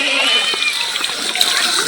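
A cut plant of Mexican fodder is washed in water, with continuous splashing and sloshing close by while someone talks over it.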